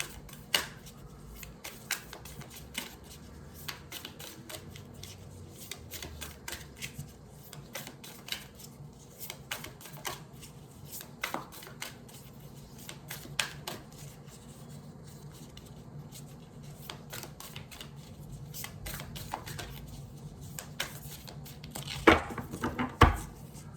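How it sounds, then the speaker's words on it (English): Soft, irregular papery riffling and tapping of a tarot deck being shuffled, quiet and close, continuing steadily with a few sharper clicks near the end. "let me shuffle and see what this card is"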